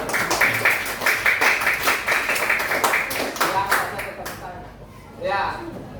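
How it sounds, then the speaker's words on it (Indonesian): Group clapping in a classroom setting, dense and steady for about four seconds before fading out, followed by a brief voice speaking. "Iya, sudah tepuk tangan dulu."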